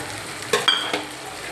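Carrots, cabbage, onion and capsicum for Indian fried rice fry in a pan with a soft continuous sizzle, broken by a few brief scraping stirs of a utensil close by, with no talk.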